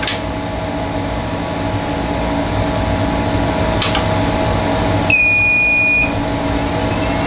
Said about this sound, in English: Got a very loud alarm.